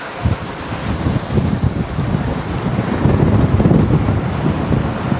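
Strong wind buffets the microphone during a road cycling ride, a loud, continuous low rumble with gusty surges throughout and no talking.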